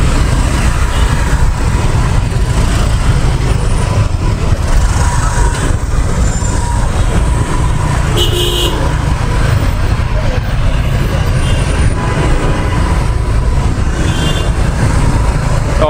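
Dense weekend traffic crawling bumper to bumper on a street near Tan Son Nhat airport in Ho Chi Minh City, a steady loud wash of engines and road roar with people talking throughout.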